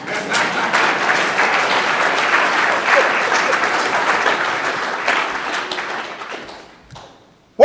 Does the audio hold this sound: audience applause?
yes